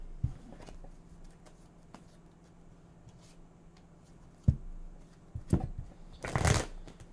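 A deck of tarot cards shuffled, with faint rustles early on and then a few louder close riffles and slaps building toward a brief dense burst near the end.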